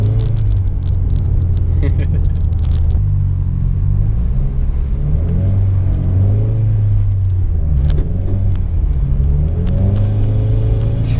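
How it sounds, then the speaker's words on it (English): A Stage 2 Subaru WRX drives sideways down a snowy street, its engine rumbling loud and steady from inside the car with rising and falling revs throughout. "Just driving down the street sideways."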